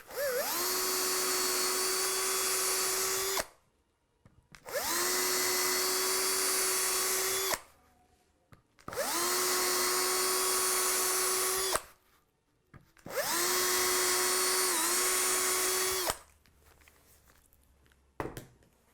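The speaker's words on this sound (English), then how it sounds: "11/64 drill. We'll take these holes out with clearance for those screws." A power drill with an 11/64 bit bores screw clearance holes in a guitar kit body, four sustained high whining bursts of about three seconds each, separated by short pauses, with no speech.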